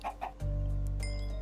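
Short chicken clucks from Minecraft chickens at the start, followed by a loud sustained low tone that continues alone to the end.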